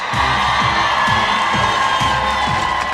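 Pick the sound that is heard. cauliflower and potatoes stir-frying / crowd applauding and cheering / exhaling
crowd applauding and cheering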